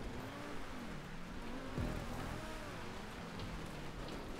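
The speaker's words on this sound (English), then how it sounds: "Supercars on dirt roads are just a fun time." A supercar in GTA Online drives down a dirt road on Mount Chiliad, its engine droning with a rising and falling pitch over a constant gritty rumble of tires on loose ground, without any talking.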